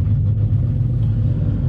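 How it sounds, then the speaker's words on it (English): Cars rev at a county dragway, a deep continuous engine rumble heard at a steady moderate level, close and unbroken throughout. "We got the cars revving up in the background"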